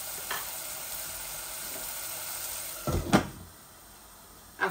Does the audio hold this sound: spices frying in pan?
yes